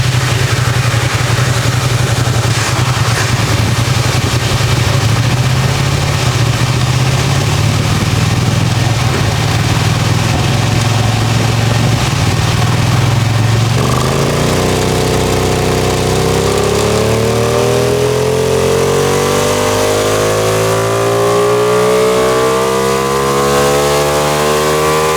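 A Ducati Panigale V2 Troy Bayliss Limited Edition motorcycle runs on a dyno, its loud engine droning steadily from 3,500 RPM and then climbing in pitch through a sustained rev-up, with no one talking.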